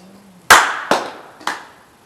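Hands clap three times during a puja ritual, sharp close claps spaced about half a second apart in a quiet room, with a faint hum before the first.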